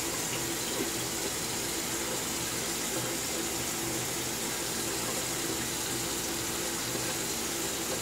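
Tap water running steadily into a sink while a razor is rinsed during a double-edge shave, a constant close hiss of flowing water with no pauses or voices.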